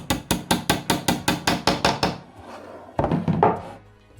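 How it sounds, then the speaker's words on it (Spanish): A hammer taps a wooden dowel into an Ikea Kallax shelf panel about ten times in a quick, even rhythm, then stops, followed by a few softer knocks and handling noises. "Y nos ayudamos del martillo."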